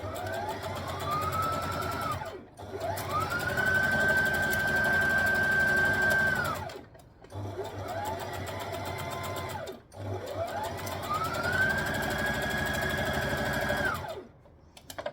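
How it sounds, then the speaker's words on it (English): A sewing machine stitching and back stitching a dress, running in loud sustained bursts with a whirring motor whose pitch rises and holds, separated by short pauses, with no talking. "So we're going to pop it in, stitch, back stitch to lock in your stitches."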